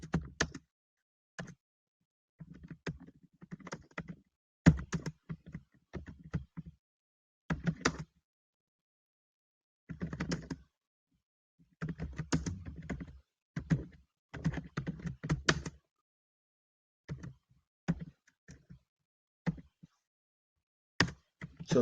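Typing on a computer keyboard in irregular bursts of close, crisp key clicks with quiet pauses between them, heard alone without voices.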